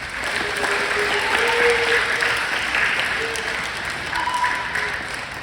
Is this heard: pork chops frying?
no